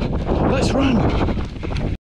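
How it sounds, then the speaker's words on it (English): Gusty wind buffets the microphone during an outdoor half-marathon road race in late autumn, a steady rushing roar under a runner's close voice as he speaks. "Very gusty, windy here"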